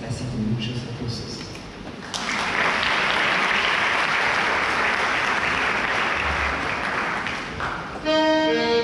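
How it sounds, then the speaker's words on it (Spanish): Theatre audience applause at the Teatro Coliseo in Argentina during a folk music performance, with dense, loud clapping building suddenly and holding steady before easing near the end as music returns. "Le pedimos ayuda con palmas, así que muchos aplausos."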